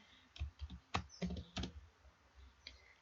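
Typing on a computer keyboard while coding an HTML, CSS and Bootstrap website, with scattered bursts of key clicks at close range, fairly quiet and uneven in rhythm.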